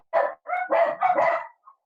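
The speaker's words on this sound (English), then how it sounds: "bloody dogs" Dogs bark in a quick run of several loud, close yelps and woofs, ending in a short faint one, with no talk.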